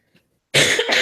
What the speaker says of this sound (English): I tried to cover my cough